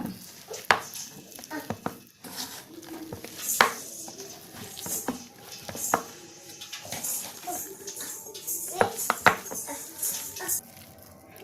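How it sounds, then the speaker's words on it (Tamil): Sliced onion being mixed by hand with gram flour and rice flour batter in a bowl, soft squelching and rustling punctuated by occasional clinks against the bowl, close and intermittent. "இப்போ நல்லா பிசைஞ்சு விடுங்க."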